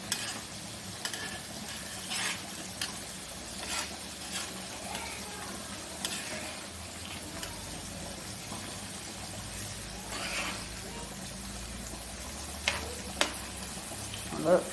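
Kingfish (choora) fries in a pan at home with a steady, soft sizzle, broken by scattered clinks and scrapes of a utensil against the pan.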